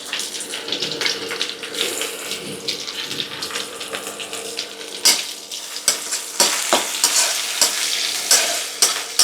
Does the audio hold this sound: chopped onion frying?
yes